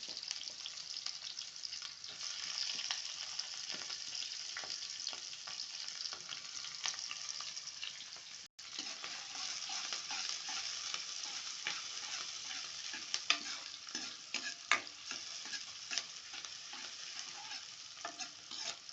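Sliced onions and green chillies fry in a pan for a brinkal curry, a steady dense sizzle running throughout with frequent scraping stirs and clinks of a spoon, close and fairly loud, no talking.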